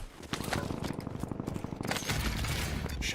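Rapid video game gunfire, a dense run of quick shotgun-style blasts that continues for a few seconds, loud and up front with game sound effects and no talk.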